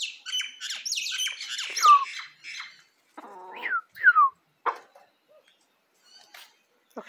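Mango, a small pet bird, gives a series of sharp descending squawks and chirps nearby, in quick bursts with short pauses, fairly loud against a quiet background, with brief soft voices.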